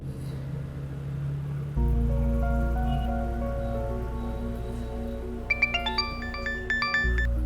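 A phone rings with an incoming call, its bright electronic ringtone entering late as a rapid, repeating pattern of short tones over steady background music.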